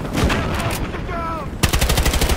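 Rapid gunfire in the video game Battlefield Hardline, loud automatic bursts with a sharper, heavier volley near the end, mixed with battle noise and a brief background voice.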